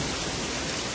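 Heavy rain and strong wind in a cartoon storm, a steady dense roar of rainfall with no pauses, loud and close throughout.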